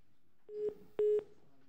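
Telephone call tones over a conference line, two short steady beeps followed by a longer, louder tone, clear and electronic with no talk over them.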